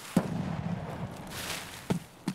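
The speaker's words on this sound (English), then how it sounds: "I'm gonna shoot my shotgun in the air, come towards this gunshot." A shotgun fired into the air in Escape from Tarkov: a sharp blast opens, then two more bangs sound near the end, with muffled background noise between them.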